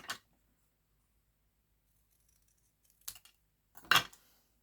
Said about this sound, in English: I'm going to trim it off with scissors